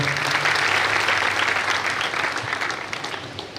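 Sustained audience applause fills an award ceremony hall, steady and loud throughout with no voices over it.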